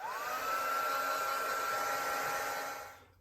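A handheld hair dryer blows steadily at close range to dry gold paint on an art journal page, a constant whooshing whine that fades out at the end.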